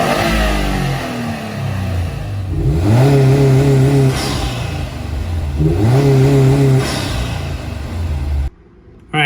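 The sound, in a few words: car with Cobb Stage 1 tune accelerating, turbo noises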